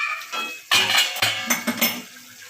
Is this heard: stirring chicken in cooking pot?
yes